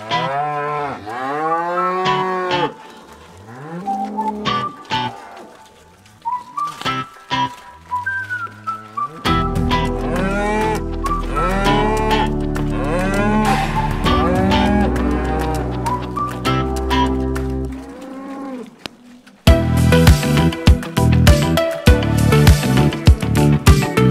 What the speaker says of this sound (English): we're going to run the cows past Reese here